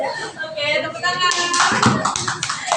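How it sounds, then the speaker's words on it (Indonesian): People in a school staff gathering break into clapping after a voice speaks over a hum, and a lively burst of hand claps fills the second half. "Oke, tepuk tangan"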